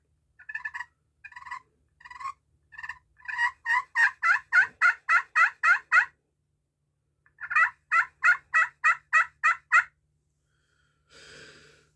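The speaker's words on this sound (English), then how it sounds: "a waterproof box call" A waterproof wooden box call for turkey hunting makes a series of raspy yelps, first a few spaced strokes and then two fast rhythmic runs of loud clucking notes, played alone and close up.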